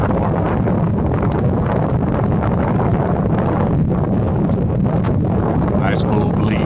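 A steady breeze buffets the microphone outdoors in a loud continuous rumble, and the roar stays dense and unbroken throughout.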